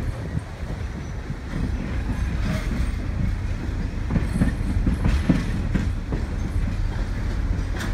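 A passenger train at Steamtown rolls past with a steady clickety-clack of wheels on rail joints, loud and close, with a rumbling low end and brief metallic squeals from the wheels.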